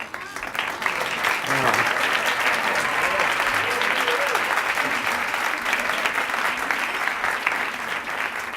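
A crowd claps and cheers in a sustained, dense burst of applause that carries on steadily throughout.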